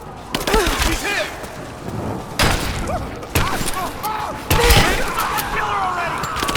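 Gunfire from the Rise of the Tomb Raider video game: sharp, loud shots in several bursts, mixed with shouted combat voices and a busy battle background.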